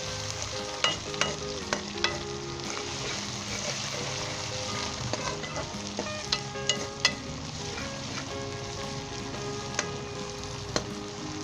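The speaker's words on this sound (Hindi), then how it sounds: "अदरक लहसुन शामिल कर दें और इसे 1 मिनट के लिए फ्राई करेंगे।" Ginger and garlic fry in a pan for chicken korma, a steady close sizzle with scattered clinks and scrapes of stirring throughout, no voices.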